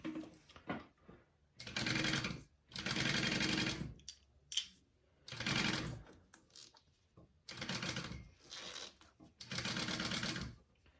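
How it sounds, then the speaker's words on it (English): A sewing machine stitches a zipper to a fabric zipper panel for a bag, running in several loud, steady bursts of rapid needle rattling separated by short pauses. "we're going to sew those together"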